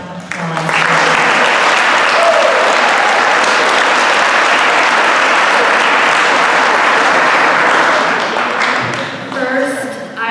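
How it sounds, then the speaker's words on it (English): A high school awards banquet crowd breaks into loud, sustained applause that swells quickly, holds dense and even for several seconds, then tapers off with a few lingering claps. "So please give them a round of applause."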